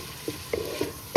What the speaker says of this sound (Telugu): ఒక 2 పచ్చిమిరపకాయలు, ఉల్లిపాయలు ఎర్రగా వేయించుకోవాలి